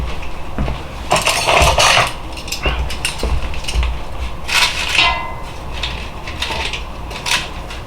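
Chicken wings being turned in the basket of a GoWISE USA air fryer, with repeated metallic clinks, scrapes and rattles of tongs against the basket in irregular bursts over a constant fan hum; no talking.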